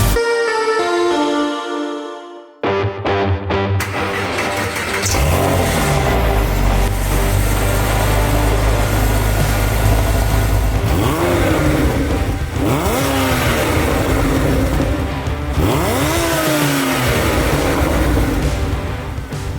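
After a brief stretch of tonal music, a car engine cranks, catches and is revved repeatedly, loud and close, each rev rising and falling in pitch.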